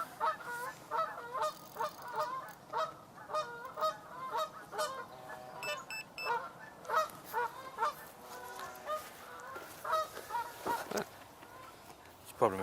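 A coot calls on a lake, giving a rapid series of repeated honking notes that continue steadily at moderate distance.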